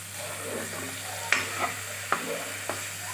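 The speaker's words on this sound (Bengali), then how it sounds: "এবার সামান্য জল দিয়ে আরও কিছুক্ষণ খুব ভালো করে কষিয়ে নেব।" Fried potatoes stir-frying in a masala with a little water added, giving a soft continuous sizzle under a low steady hum, with three sharp spoon scrapes against the pan partway through.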